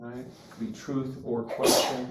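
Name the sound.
sneeze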